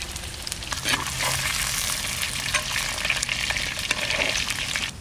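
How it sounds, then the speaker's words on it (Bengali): Parboiled potatoes fry in oil in a pan for chicken biryani, a continuous loud sizzle with occasional stirring scrapes and crackles throughout. "আলুগুলো একটু সিদ্ধ করে নিয়েছিলাম, ভেজে নিচ্ছি।"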